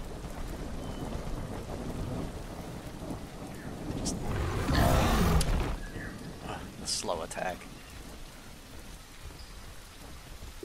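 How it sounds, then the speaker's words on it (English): Steady rain falls in the video game The Isle Evrima while a loud roll of thunder swells and crashes midway, then fades back into the patter, with a player speaking briefly over the storm. "It's raining."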